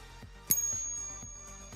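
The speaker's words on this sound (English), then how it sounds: "Okay, this is what real silver sounds like." One bright ping from a struck silver coin leaves a long, high ringing tone that lingers over faint background knocks.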